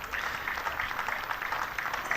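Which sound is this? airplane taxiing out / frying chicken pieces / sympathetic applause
sympathetic applause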